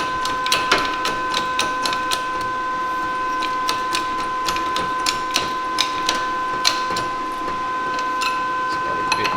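A welder's cooling fan runs steadily in the background of a metal-bending shop with a 6000 kg shop press, holding a constant hum with several fixed tones while faint irregular clicks and taps come and go.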